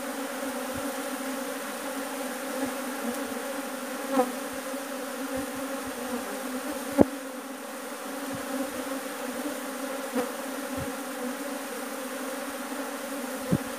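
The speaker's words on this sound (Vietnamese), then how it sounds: "ong nó đến cắn nhau, ong soi nó đến cắn nhau" A swarm of bees buzzes around a square wooden box trap, with a dense, steady drone close by and occasional sharp ticks and bumps as insects fight and strike the box.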